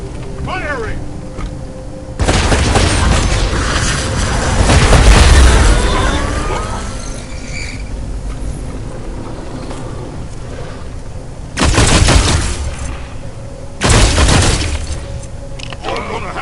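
Gunfire and explosions in the game Wasteland 3, dense bursts of shots and booming blasts with crackling debris, loud and near, rising in heavy waves over a continuous rumble, with voices shouting over the combat.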